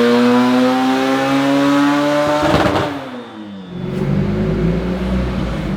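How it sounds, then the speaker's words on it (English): One-off turbocharged Lotus car engine making over 500 horsepower, revving extremely loudly and close, holding a high roar, then dropping off sharply before rising again in a rough, rumbling burst. "We're literally standing like 50 feet away from the car because it's so loud."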